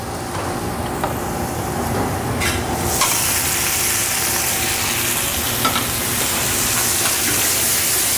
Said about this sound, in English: And then we're gonna add our shrimp.